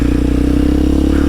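A Kawasaki KLX 230SM motorcycle on freshly installed tires pulls away in a parking lot, its engine running close and steady with an even, throbbing exhaust note and no voices.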